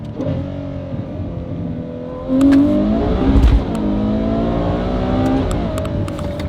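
A Ferrari 812 V12 with a sport catback exhaust runs steadily on overrun with a harmonic exhaust drone, rising in pitch and loudness midway with a brief surge, then settling back into a sustained, throaty hum.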